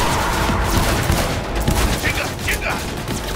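Rapid automatic gunfire in a PC shooter game, aimed at a car's tires, rattles in a loud continuous burst with booming reports, dense and close throughout the short stretch.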